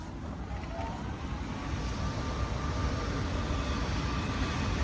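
A train moves off, heard from on board as a smooth, steady, broadband rumble that slowly grows louder, with no rhythmic rail clatter.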